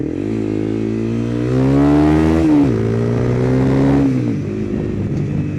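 Honda CBR250R motorcycle engine revving hard, its pitch climbing, dipping and climbing again in a sustained over-rev, loud and close with no talk.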